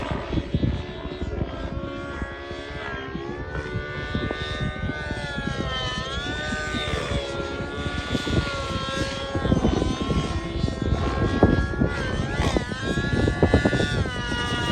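A small nitro engine on a Tron 700 RC helicopter, running rich, drones steadily and loudly with a wavering, slightly sputtering, gurgling pitch, rising and dipping as it runs without pause.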